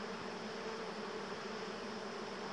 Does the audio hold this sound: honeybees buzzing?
yes